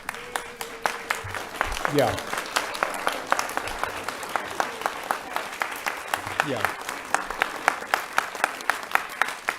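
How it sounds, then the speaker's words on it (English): An audience at a county council meeting stands and applauds, giving a dense run of claps that carries on for several seconds, with a couple of brief voices calling out. "I want everybody in the audience to stand up and applaud this group"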